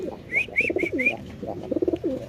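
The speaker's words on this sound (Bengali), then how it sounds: "এখানে আছে এক পেয়ার কবুতর আপনি দেখতে পাচ্ছেন" Lahori pigeons coo at a pigeon farm, giving several soft, close, rhythmic coos in quick succession along with a few higher calls.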